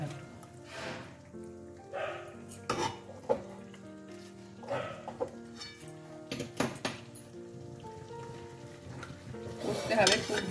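Chicken and potato curry is stirred in a pan, turned over from top to bottom in irregular scraping, clattering strokes, with a louder burst near the end and a faint voice and tonal sounds underneath.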